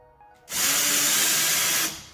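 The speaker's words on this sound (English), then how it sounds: "I like to pre-drill or preset my holes for my anchors." A power drill runs steadily for about a second and a half, bored into a wall to pre-drill holes for anchors while a thermostat is being changed; close, loud whine with no talking.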